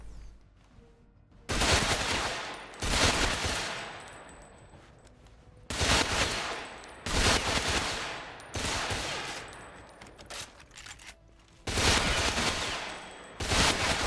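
An AK assault rifle fires in the video game GRO in long, loud full-auto bursts, about six sustained volleys separated by short quiet gaps.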